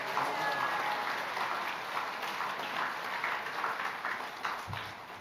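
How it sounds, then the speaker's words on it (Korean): A church congregation claps loudly and steadily to welcome the pastor to the pulpit, a dense, continuous wash of applause filling the hall for several seconds. "나오실 때 크게 우리 박수로 환영합시다."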